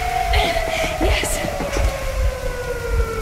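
A train in Metro Exodus: a steady mechanical rumble with a sustained whistle-like tone that slowly drops in pitch, and voices faintly under it.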